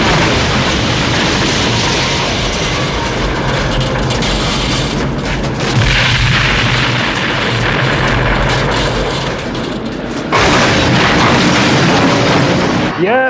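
A loud, sustained movie explosion rumbles behind a helicopter stunt in the 1983 film Blue Thunder, a dense roaring wash of sound that cuts off abruptly and then surges back.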